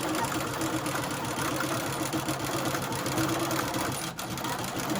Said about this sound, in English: So now I'm just going to sew up through the butterfly, the white and black butterfly, and across.